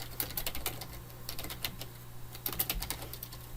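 Rapid, uneven bursts of keystrokes on a computer keyboard as a command is typed, close and crisp, with brief pauses between clusters and a low steady hum underneath.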